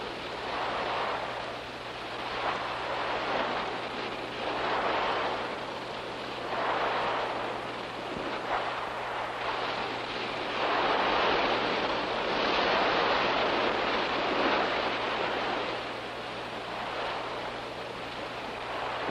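Ocean surf rolls onto a beach in repeated broad washes, steady and fairly soft, with a low constant hum and wind underneath.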